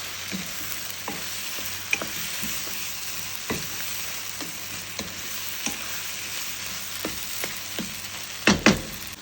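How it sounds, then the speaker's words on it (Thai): Tomatoes fry and sizzle in a pan under a steady hiss while a utensil stirs them with scattered scraping taps, ending in a couple of louder clanks near the close. "คลุกเคล้าให้เข้ากันจ้ะ รอให้โตเมโต้เนี่ยเขา เขาเละหน่อยเนาะ"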